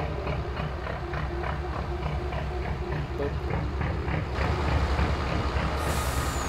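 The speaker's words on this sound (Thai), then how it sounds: "คือเวลาเรา โยกเนี่ย คือเครื่องมันจะเร่งให้เองอัตโนมัตินะทุกคน" An excavator engine in Farming Simulator revs on its own, a steady loud droning mechanical hum with a rhythmic pulsing and a brief hiss near the end.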